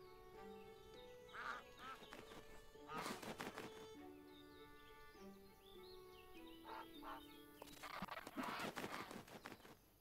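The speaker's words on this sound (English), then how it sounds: "The duck wants to kill me!" Ducks in the video game Everdream Valley quack in repeated bursts over game music, alongside clip-clop footstep sounds, with the loudest flurries near the start and the end.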